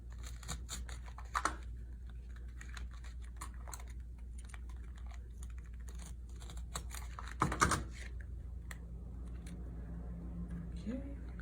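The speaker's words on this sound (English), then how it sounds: "Cut off the excess." Duct tape being trimmed with scissors while making a wallet, with a crisp cut and tearing burst near the middle over steady background noise and light handling clicks.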